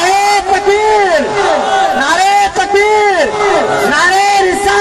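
A crowd at a religious gathering chants back in unison to the Nara-e-Takbeer slogan, loud massed voices in repeated swelling waves with a leading voice rising over them.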